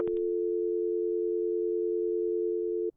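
A steady telephone dial tone from the video game Driving Life hums alone at an even pitch for nearly three seconds, preceded by a brief click at the start and cut off sharply near the end.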